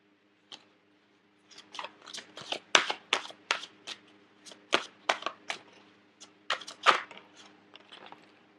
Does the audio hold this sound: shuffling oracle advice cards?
yes